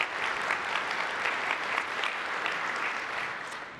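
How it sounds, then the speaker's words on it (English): Large conference keynote audience in Berlin in 2018 applauding contributors, dense steady clapping from a big crowd held at an even level for about three seconds before tapering slightly. "I want to give you all a round of applause."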